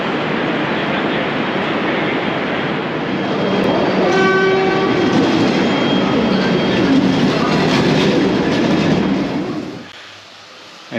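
Suburban train in Melbourne's eastern suburbs rumbling steadily and loudly at close range, with a sustained horn-like tone sounding in the middle before the noise drops away near the end; no talking.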